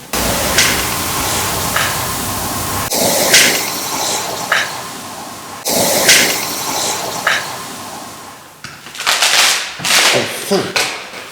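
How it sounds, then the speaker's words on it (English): Ice cracking and breaking underfoot over water at an abandoned psychiatric center, with repeated crunching snaps in bursts and a busier flurry of cracks near the end, close and fairly loud. "This is ice, and it's breaking."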